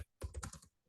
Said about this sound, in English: type some text on the edit box